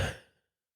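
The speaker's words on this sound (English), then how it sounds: "Nice deep breath." A single deep breath exhaled in a calm guided tapping session, a soft close sigh that trails off into silence within half a second.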